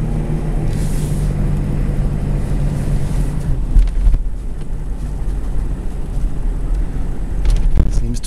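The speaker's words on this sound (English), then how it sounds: "I'm going to just drive it around, see if it continues to do this weird thing." A 1995 Chevrolet Suburban with a fault that makes it chug and surge unexpectedly is driven, giving a steady, loud low engine and road rumble mixed with wind buffeting throughout.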